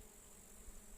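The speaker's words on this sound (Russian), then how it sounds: "Вся пчела на фацелии." Honeybees drone in a dense, steady swarm over flowering phacelia at an apiary, a continuous buzzing hum with no voices.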